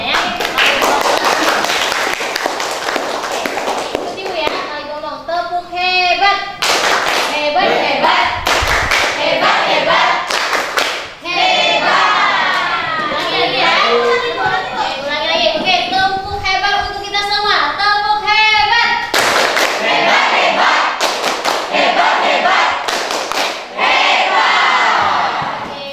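A classroom of students does a rhythmic group clap led by a teacher, loud patterned clapping bursts mixed with chanting and crowd voices that continue throughout.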